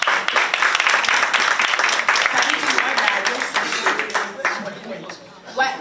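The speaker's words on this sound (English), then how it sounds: "Applaudissez la suite." A studio audience on a talk show claps: a busy burst of applause that is loud at first and then gradually thins, with a few scattered claps and voices near the end.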